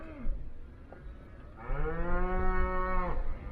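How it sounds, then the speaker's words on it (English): Cattle standing at the edge of the woods in Bighorn National Forest, Wyoming, give a faint low call, then one long loud moo with a rising and falling pitch, close by and with no talk. "These cows are smart."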